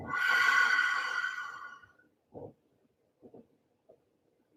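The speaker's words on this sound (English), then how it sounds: "Deep breath out." A long, deep breath pushed out through the mouth during a yoga breathing exercise. It is a close, breathy rush lasting about two seconds and fades away, followed by a few soft, faint rustles.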